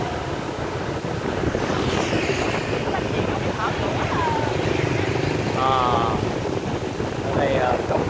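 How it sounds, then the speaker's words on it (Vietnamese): Steady wind buffeting a microphone while riding along Nguyen Hue street in Vinh Long, a broad continuous rush throughout with people talking over it and brief traffic sounds. "Ồ mình đi ngược gió rồi"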